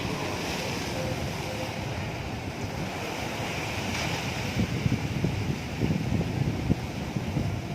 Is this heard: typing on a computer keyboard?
no